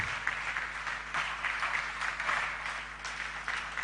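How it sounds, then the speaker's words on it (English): A crowd at a maritime academy cadets' graduation lecture applauds with sustained, even clapping at moderate volume, no speech over it. "With a resounding round of applause"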